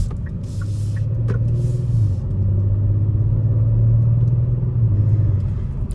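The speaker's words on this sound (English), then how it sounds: "Not even giving the car full throttle. It sounds amazing." The engine of a 2023 Kia Stinger GT2 runs below full throttle with a deep, steady hum close by. The pitch shifts slightly twice as the revs change.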